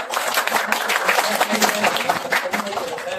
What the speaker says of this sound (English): Please clap for them also.